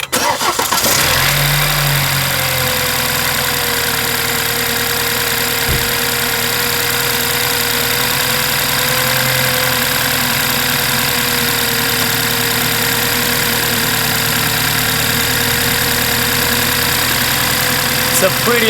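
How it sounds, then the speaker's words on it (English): A 4-cylinder BMW car engine cranks and catches, then settles into a loud, steady idle that runs on close by with no break. "It's a pretty loud engine."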